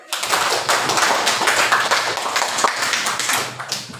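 A class of university students claps together in a classroom, a dense burst of hand claps lasting several seconds at close range before stopping.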